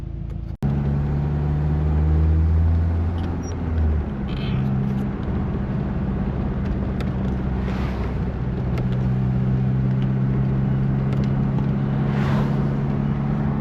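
A Nissan S13 driving, its engine droning steadily with low rumbling tones that shift as it changes speed, a brief sharp knock near the start and some wind and road noise throughout, no talking.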